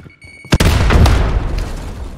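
A frag grenade detonates in Call of Duty Warzone, one loud, close boom followed by a long rumbling, crackling tail that slowly fades.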